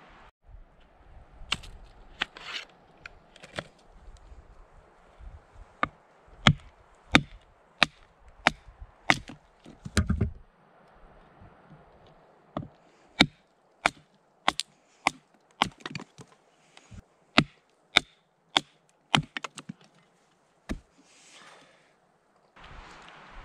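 A knife with a 1095 high carbon steel blade is batoned through wood to prep a fire, giving a series of sharp, distinct woody knocks and splitting cracks at irregular intervals, close and fairly loud against quiet surroundings.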